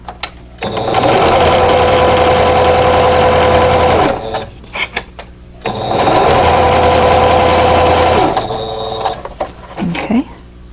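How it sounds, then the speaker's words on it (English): A sewing machine stitches a quarter-inch seam on a star flower quilt block, running in two steady sustained bursts of several seconds each with a brief pause between, loud and close. "swing that around and sew on the other side"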